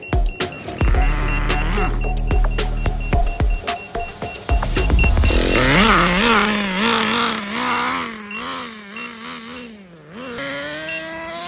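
A Traxxas RC car's electric motor whines loudly, rising and falling in pitch as it bogs out, with fluctuating revs and no voices over it.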